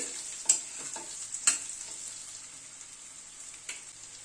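New winter potatoes, some halved, fry in a pan until browned: a soft, steady sizzle runs throughout, broken by a few sharp clicks and scrapes of a utensil against the pan, close and fairly quiet, with no talk.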